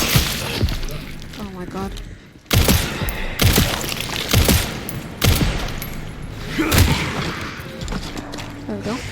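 Gunfire in the video game Resident Evil Requiem, with about five loud sharp shots spaced unevenly over several seconds, heard over game noise while a player exclaims and talks.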